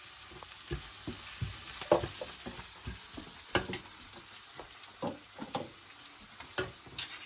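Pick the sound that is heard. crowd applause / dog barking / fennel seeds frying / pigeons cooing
fennel seeds frying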